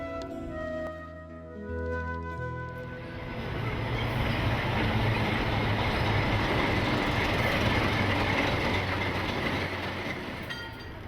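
A train rolls along rails through the Andes toward Machu Picchu, its steady rumble and wheel clatter swelling after a quieter start and holding loud and continuous to the end.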